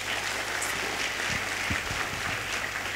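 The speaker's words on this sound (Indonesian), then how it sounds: "Beri tepuk tangan lagi." A church congregation in the Santo Antonius Padua parish applauds with a dense, even patter of clapping that runs unbroken, over a low electrical hum.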